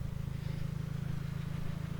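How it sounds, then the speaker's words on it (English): An aftermarket fuel pump in a 1992 Nissan 180SX, a USA-import widebody, whirs with a steady low drone that stays even throughout, close and moderately loud. "You can hear that fuel pump, probably an aftermarket one."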